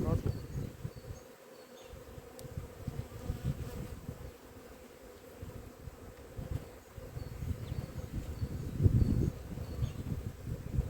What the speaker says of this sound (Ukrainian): Ну, бджоли тут дуже багато